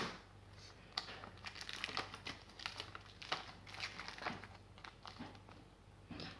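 Plastic packaging of a peeling foot mask crinkles and rustles continuously at close range, with small crackles and snaps as it is handled and pulled open.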